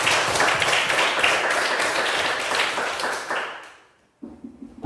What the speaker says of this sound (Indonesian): Mari kita tepuk tangan kita semua.